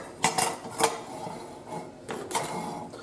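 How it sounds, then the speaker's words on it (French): A kitchen knife cutting a lemon in half, with a few sharp clicking knocks against a board or dish, spaced apart, close and moderately quiet in a calm room. "Et là je vais couper le citron en deux."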